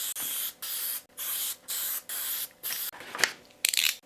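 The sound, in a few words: Elmer's spray adhesive being sprayed onto wood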